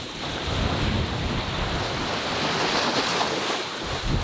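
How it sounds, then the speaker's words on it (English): Rough, disturbed sea around a 36 ft sailboat crossing an ocean: a steady, loud wash of waves and wind noise with no break, heard without any voices. "today's maybe a bit tougher this morning because we have a pretty disturbed sea"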